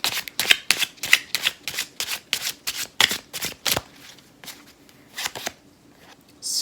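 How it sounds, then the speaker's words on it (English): A deck of Bicycle playing cards is riffled and shuffled by hand in a rapid run of crisp, fluttering bursts, close to the microphone, with brief pauses between shuffles. "So I'll just shuffle and I'll do 3 and 3."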